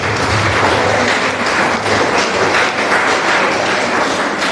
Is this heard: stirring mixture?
no